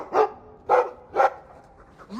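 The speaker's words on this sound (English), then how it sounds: "I like the doggy." A dog in the video game Dragon Age II barks three times in an even, spaced rhythm, each bark short and clear against a quiet background.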